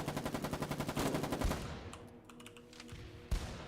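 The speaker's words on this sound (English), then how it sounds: "Fucking shotguns, dude." Rapid gunfire from shotguns in a video game, a quick rhythmic burst of shots for about a second and a half, then scattered fainter hits and one sharp final bang, all fairly quiet.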